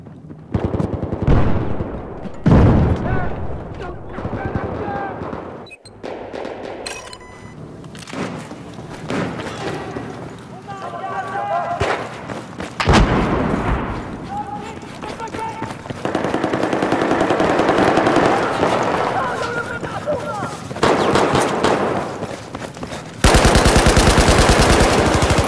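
Gunfire from every direction in a Battlefield video game (Dragon's Teeth pack): rapid machine-gun bursts and single shots, thuds and distant booms in a continuous loud barrage, growing denser toward the end.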